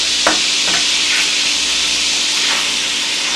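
Burger patties for a Reuben cheeseburger sizzle loudly in a pan at low-medium heat, a dense continuous hiss broken by a few soft scrapes as they are flipped.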